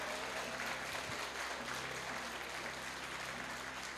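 An audience in a church claps steadily, a dense, even wash of applause that holds at one level for the whole stretch without rising or fading.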